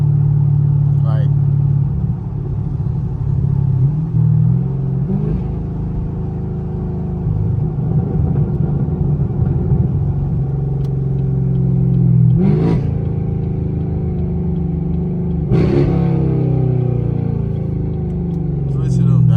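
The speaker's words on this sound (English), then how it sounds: "Them downshifts sound crazy." A Chevrolet Camaro SS engine rumbles steadily up close, with a few sharp revving bursts as it downshifts, while a voice talks over it throughout.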